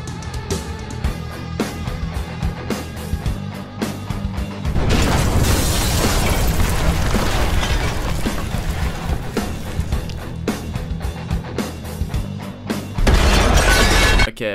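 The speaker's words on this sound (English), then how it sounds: "the sound effect was like a broken window or something" A cartoon glass-shatter sound effect crashes loudly amid a busy animation soundtrack of music and effects, with a sustained noisy burst in the middle and another sharp crash near the end.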